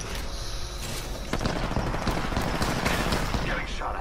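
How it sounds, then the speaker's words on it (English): Rapid gunfire from an Apex Legends match, a dense, continuous crackle of shots filling the clip at steady loudness, with a player talking over it. "Getting shot at."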